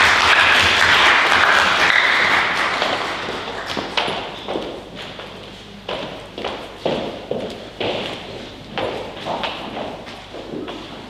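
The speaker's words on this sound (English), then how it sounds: "Applause, please." Applause at an academic conference on intercultural differences, a thick burst at first that fades into scattered, separate claps.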